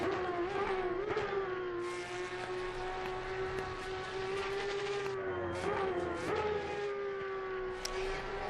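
Race car engine in Assetto Corsa Competizione, a steady high-pitched engine drone held near constant with brief pitch dips at gear changes, loud and continuous with no talk.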